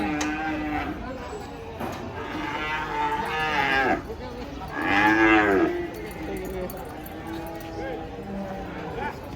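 A calf moos loudly several times, low and drawn out, while people talk nearby over steady outdoor background noise, as cattle are unloaded from a truck.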